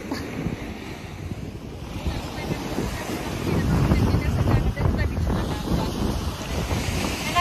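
Pacific Ocean waves wash against the shore at Tagas Boulevard, a broad, continuous surf roar that builds toward the middle, mixed with heavy wind buffeting the microphone.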